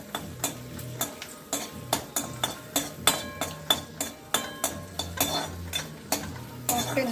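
Red chillies with chana dal and urad dal roasting in a pan for groundnut rice, a soft sizzle under a steady run of rhythmic spoon scrapes and metallic clinks against the pan.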